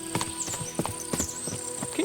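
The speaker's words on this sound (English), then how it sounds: "What a lot of horses!" Horses in Kingdom Come Deliverance 2 clip-clop along with steady, fairly quiet hoofbeats, a rhythmic clatter over a soft background tone with a short whinny-like rise at the end.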